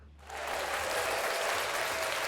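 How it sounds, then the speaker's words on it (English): Applause swells in after a brief quiet moment, a dense even wash of clapping that holds steady at moderate loudness, with a low hum beneath on a talk show. "Round of applause to that judge, Judge Whitaker."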